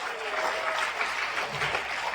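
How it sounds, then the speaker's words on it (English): Delegates at a model United Nations session applaud together, a dense, even burst of clapping from a roomful of hands with no talk over it. "Thank you for the applause."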